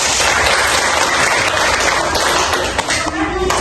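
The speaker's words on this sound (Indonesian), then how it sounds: "Kita beri tepuk tangan dulu dengan kata tadi." Classroom applause as students clap together at the end of a social science lesson, a dense, continuous patter that stays loud throughout.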